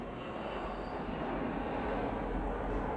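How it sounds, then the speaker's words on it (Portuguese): Airplane near an airport, a steady loud broadband engine roar that holds evenly throughout without fading, heard alone. "isso é o avião, tá? Eu moro perto do aeroporto."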